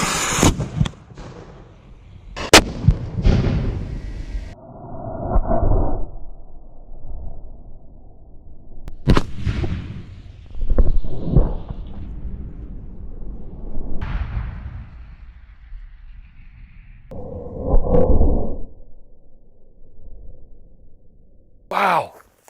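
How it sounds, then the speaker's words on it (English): A replica 18th-century naval cannon fires cannonballs into wooden oak planks outdoors, giving several sharp, booming blasts spread out between stretches of people talking. "one of the few 18th century replica naval cannons in the world capable of firing cannonballs"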